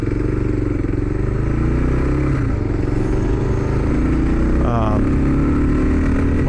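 A 2022 Kawasaki KLR650 dual sport motorcycle ridden on the road, its single-cylinder engine droning loudly and continuously with rising and falling revs amid wind noise, with a voice talking over it.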